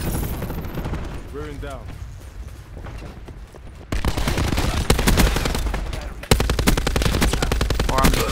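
Automatic gunfire in the Black Ops 4 shooter, dense bursts of rapid shots that grow louder and heavier partway through, with a player talking over the action.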